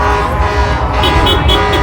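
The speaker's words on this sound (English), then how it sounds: "You got a lifted truck with a train horn." A train horn mounted on a lifted truck blasts loud and close during a Christmas parade of lights in Odessa, a brassy sustained toot over road and crowd noise.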